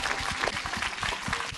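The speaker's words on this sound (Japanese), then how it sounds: "どうぞ拍手でお迎えください。" Dense, steady clapping from an audience at a film's completion preview screening fills the whole short stretch, close and loud, with no voices over it.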